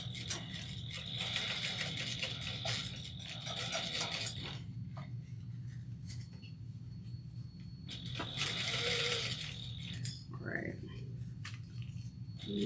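A sewing machine stitches and back stitches a seam at a quarter-inch allowance, whirring in bursts with pauses between them, mixed with a speaking voice and some handling noise.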